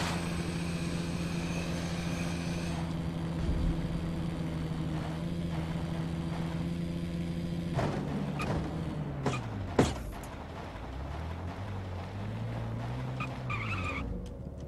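Vehicle driving in the video game Defiance 2050, a steady engine drone giving way to sharp tire skids and sweeping, wavering engine pitch as it slides and turns, with no talking.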